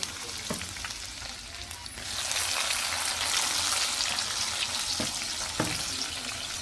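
Garlic and tomato frying with cabbage in a pan, a steady close sizzle that grows louder and denser after a couple of seconds, with occasional stirring scrapes and no talking.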